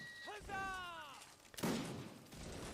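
Musket fire in the Mount & Blade Warband Napoleonic Wars game during a line infantry event: a single sharp gunshot crack breaks in mid-clip after a fife melody, with someone talking over the scene.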